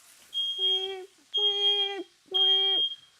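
A kitchen smoke alarm set off while cooking pozole rojo and queso fundido, sounding three loud, piercing electronic beeps, each about half a second long, evenly spaced with short gaps.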